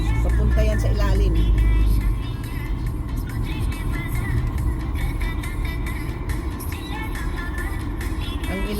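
Car driving through a city downtown and turning into an underground tunnel, a loud low engine rumble that drops and settles into a steady road hum as the road sound changes, with faint talk.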